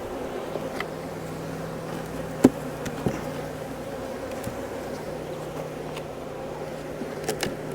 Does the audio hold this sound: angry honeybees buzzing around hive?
yes